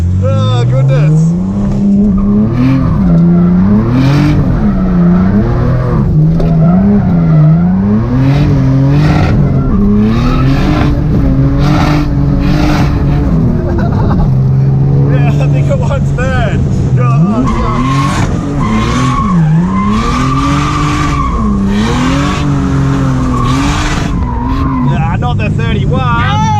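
A 600+hp Barra-engined drift car being driven by a first-time drifter, engine howling loud and close with rising and falling revs and sustained tire squeal, people talking over it throughout.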